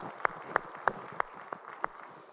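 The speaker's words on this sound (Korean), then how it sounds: "우리 찬양 박수 주님께 영광의 박수 올리겠습니다" A church congregation at a Sunday worship service claps together in a steady, even rhythm, about six crisp claps spaced evenly apart, fairly faint and somewhat distant with no talking over it.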